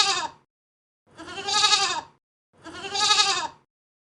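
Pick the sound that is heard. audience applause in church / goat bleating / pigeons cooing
goat bleating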